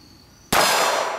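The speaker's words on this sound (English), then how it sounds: "let's go for the gong right now." A .22 Magnum bullet from a Smith & Wesson Model 351PD revolver strikes a steel gong target with a single sharp, loud clang that keeps ringing brightly after the impact.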